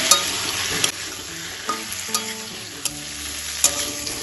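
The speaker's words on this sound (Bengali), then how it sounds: "ভালো করে কচুটা তেলের সাথে ভাজা করে" Boiled taro pieces fry in oil with salt and turmeric while a spoon stirs them, making a constant close sizzle broken by sharp scraping clicks against the pan, with no talking.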